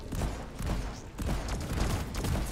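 Rapid gunfire pours at a Praetorian in the game Deep Rock Galactic, a dense continuous stream of shots at moderate, fairly quiet level.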